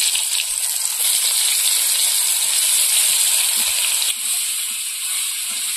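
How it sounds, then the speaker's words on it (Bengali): Pointed gourd (potol) pieces frying under a lid in leftover fish-frying oil in a village kitchen, giving a steady, loud sizzling hiss that runs on without a break, with faint clinks in the background. "এই মাছ ভাজা তেলের মধ্যে পটলগুলো ঢাকা দিয়ে দিয়ে ভাজা করে নেব।"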